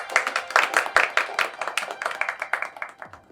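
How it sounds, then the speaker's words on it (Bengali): A small group claps for Mukul with uneven hand claps in a brisk burst that thins toward the end, fairly close. "মুকুলের জন্য একটা হাততালি।"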